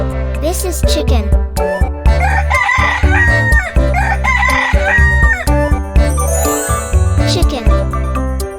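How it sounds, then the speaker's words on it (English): A rooster crows cock-a-doodle-doo several times, loud and close, with clucking hen sounds mixed in over a cheerful children's music backing with jingles. "This is chicken."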